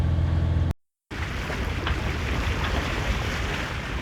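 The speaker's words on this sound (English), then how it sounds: "We put the engine on because the wind dropped away to 5 knots, so we're just going to motor in the last couple of miles." Sailboat motoring under engine power at sea on light wind, with a steady low engine drone under wind and water rush after a brief silent gap, no talk.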